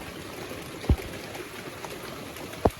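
Heavy rain falls steadily in a constant wet hiss under dark skies, with two brief heavier splashes or thuds standing out.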